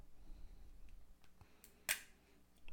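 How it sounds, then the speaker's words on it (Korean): Protective plastic film pulled off a Xiaomi e-ink thermometer and hygrometer, a quiet close-up with a few faint crinkles and one sharp peel or snap near the end over low room hiss. "비닐을 뽑아 보도록 하겠습니다."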